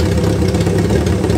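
A Honda CB500 motorcycle engine runs at a steady idle, a loud, close, continuous low rumble with an even throb and no voices.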